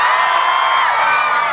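Audience at a barangay Miss Gay pageant in Bucal, Tanza, Cavite cheers and shouts, a loud, sustained roar of many voices with no break through the short stretch.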